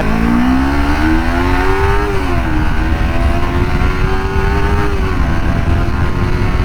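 Kawasaki Ninja 250R twin-cylinder engine revving hard above 5000 RPM, a loud, sustained high-pitched scream with rising and falling engine pitch, continuous and close with no talking.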